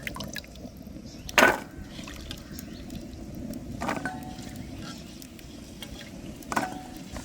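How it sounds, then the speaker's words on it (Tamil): Onions and green chillies are rinsed in a bowl of water, with soft sloshing and a few louder splashes as they are handled, close by and fairly quiet. "நான் எடுத்து வச்சுக்கிற வெங்காயம் பச்சை எல்லாம் கழுவி எடுக்க போகிறேன் வடிவாக கழுவி எடுப்போம்"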